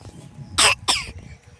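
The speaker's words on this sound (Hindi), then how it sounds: "क्या हुआ बाबू, खांसी आ रहा है?" A person coughs twice in quick succession, two short harsh bursts close to the mic in a quiet outdoor resting spot.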